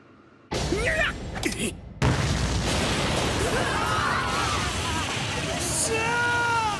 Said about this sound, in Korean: 호주머니 수류탄을 그대로 폭발시킵니다